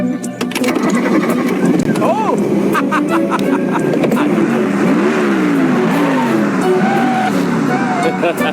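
A car engine runs and revs loudly for the whole stretch, its roar rising and falling, blended with a busy mix of other sound and what may be voices.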